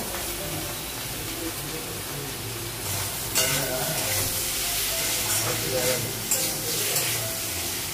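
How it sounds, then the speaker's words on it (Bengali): Boiled potatoes fry in a pan with a steady close sizzle, joined by scraping stir strokes and brief louder bursts of hiss midway. "আলুটা একটু ভেজে নেব"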